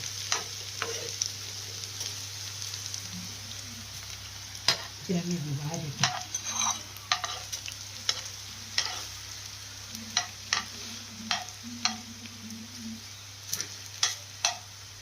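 Okra for a Kerala-style mezhukkupuratti fries in oil in a pan, a quiet sizzle broken by repeated sharp scrapes and taps of a spoon stirring, close by and with no voices.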